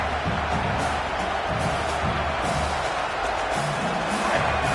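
Football stadium crowd roaring and cheering steadily throughout, a dense continuous wash of distant voices with no clear individual speech.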